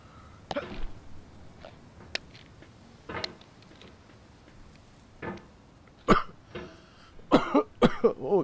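A man coughs several times while playing a computer game, scattered short bursts near the microphone, becoming a louder cluster of coughs toward the end.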